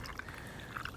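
Squirt soda poured into a glass to finish a Paloma cocktail, a short, faint liquid pour with a couple of soft splashy blips over steady background hiss.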